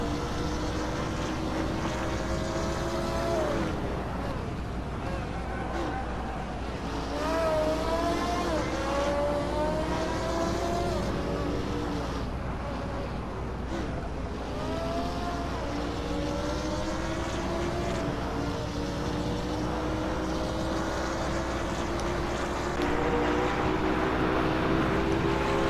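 The rotary engine of a Mazda 787B race car in a racing game drones steadily throughout, its pitch rising and dipping through gear changes and corners, moderately loud with other cars mixed in.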